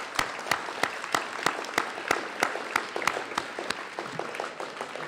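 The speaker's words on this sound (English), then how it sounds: "let's just give one last round of applause for all our contestants here" An audience applauds spoken word contestants at a grade 9 and 10 competition, with a few loud distinct claps standing out above a steady wash of crowd clapping.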